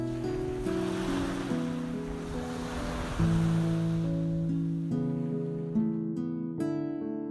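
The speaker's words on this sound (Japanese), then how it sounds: "波がザーザーと来る。" Ocean waves wash ashore at sunset on Kozushima island, Tokyo, a steady broad surf rush that fills the background while sustained tonal music plays prominently over it.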